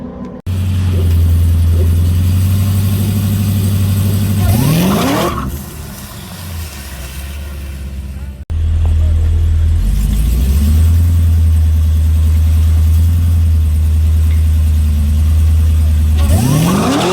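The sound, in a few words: drag car launching at 1400 RPM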